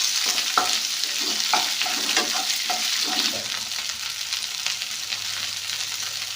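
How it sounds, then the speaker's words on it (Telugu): Cut okra fries in hot oil in a pan with a steady, close sizzle, while a utensil stirs it in repeated scraping strokes. "ఇందులో కొంచెం వేడెక్కిన తర్వాత ఇందులో బెండకాయలు కట్ చేసుకున్నటువంటి బెండకాయలు వేసుకోండి"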